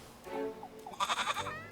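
Goat bleating in the video game Little Goody Two Shoes: a wavering, tonal bleat followed by a brighter, higher second bleat, close and clear with no talk.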